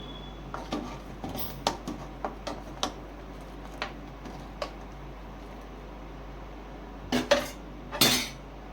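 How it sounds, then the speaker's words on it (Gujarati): Spoon scraping and knocking against a cooking pot while dal dhokli is stirred, a scattered run of light metallic clinks and taps at close range, ending in a louder cluster of clatters. "હવે આપણે એમાં ઢોકળી નાખી દઈશું અને વચ્ચે વચ્ચે હલાવતા પણ રહીશું જેથી કરીને ઢોકળી ચોંટી ના જાય"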